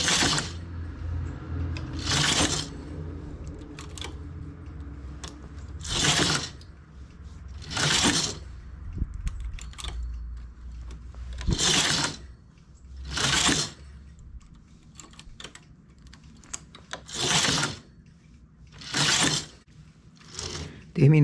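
A knitting machine carriage slides back and forth across the needle bed, giving loud rattling, clattering passes about every two seconds with a quieter mechanical hum between them.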